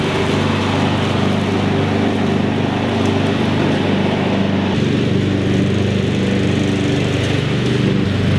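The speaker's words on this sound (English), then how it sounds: "He loves mowing the grass." A lawn mower cuts grass outdoors with a loud, steady engine drone close by, running continuously without pause and with no talking.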